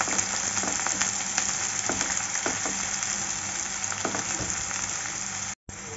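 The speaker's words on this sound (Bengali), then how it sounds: "একটু হালকা করে ভেজে নেব পেঁয়াজটা।" Chopped onions fry lightly in a pan for a mushroom curry, giving a continuous crackling sizzle with irregular spatula clicks and scrapes from steady stirring, then a brief gap of near silence before the sizzle resumes.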